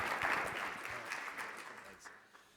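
Audience applause at a mayors and business leaders plenary breakfast, a broad wash of clapping that is moderately loud at first and gradually thins and fades over a couple of seconds.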